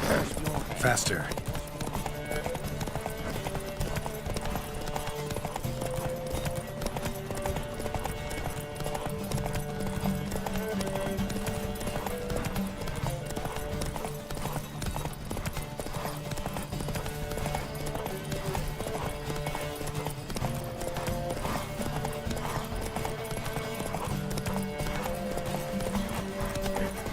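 Rapid hoofbeats of galloping horses in a Witcher 3: Wild Hunt horse race pound steadily throughout, with an occasional whinny and voices mixed in over a dense, continuous soundscape.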